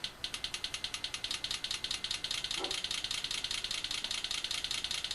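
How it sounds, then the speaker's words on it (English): Simulated idling of a water-fuel car's injector pulses: a steady, fast mechanical ticking pulse repeating evenly throughout, moderately loud and alone, with a faint low thump midway. "So this is what it would sound like if it was idling."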